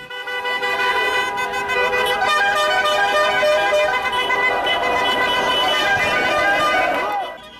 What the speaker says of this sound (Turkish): Cumhuriyet Caddesi'nden geçen araçlar da korna çalarak topluluğu selamladı